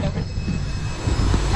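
A plane passes overhead near Ocean City, Maryland, out on the water while crabbing a trotline, a steady broadband engine roar that holds at a constant loud level for the whole stretch, with wind and boat noise mixed in.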